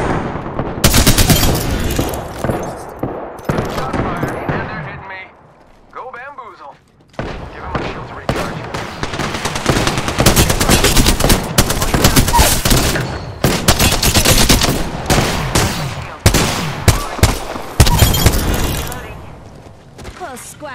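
Rapid machine gun bursts in an Apex Legends firefight, loud and dense, repeating in long volleys with a short lull near the start, the game's own sounds mixed in.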